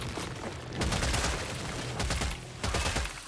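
Rapid gunfire in Killing Floor 3, dense bursts of shots with booming hits that swell and fade in a busy game mix, with no talk over it.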